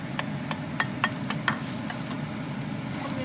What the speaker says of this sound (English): Add in the garlic and ginger.